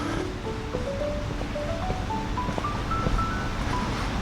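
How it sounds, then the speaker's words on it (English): Rushing water stream in a park near a shopping area, a steady broadband wash with a faint rising melodic tone drifting over it, continuous and moderately quiet. "The water stream, the rushing."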